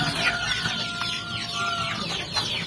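A flock of backyard chickens, some penned and some free-ranging, cluck and chatter in short repeated calls, close by and fairly loud, with no voices over them.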